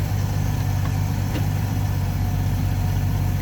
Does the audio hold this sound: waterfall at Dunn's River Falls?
no